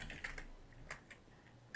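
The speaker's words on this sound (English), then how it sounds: "Type on wrong row of keys." Quiet keystrokes on a computer keyboard tap in an irregular run of soft clicks during play of the King's Quest III adventure game, faint and close with no voices.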